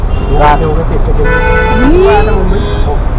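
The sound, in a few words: Mumbai street traffic with honking car horns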